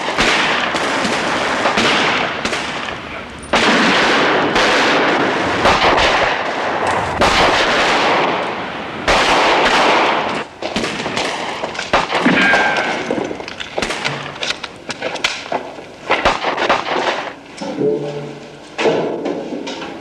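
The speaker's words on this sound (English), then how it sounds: "Fire as your target presents." A heavy exchange of gunfire in a staged shootout: dense, loud volleys of shots and sharp bangs crowd together, then thin into scattered single reports and clanks toward the end, with no talk.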